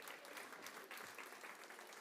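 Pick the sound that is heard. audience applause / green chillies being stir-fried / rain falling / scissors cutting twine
audience applause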